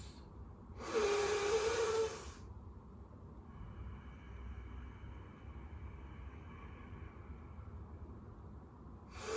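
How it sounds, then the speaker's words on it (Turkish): A slow, deliberate nasal inhalation for a diaphragmatic breathing exercise, drawing air in through the nose while expanding the belly. A loud, airy breath lasts about a second, then a long quieter stretch follows with faint room noise and no talking. "Yine diyaframımıza baskı uygulayarak burnumuzdan nefes alıp karnımızı dışa doğru şişiriyoruz."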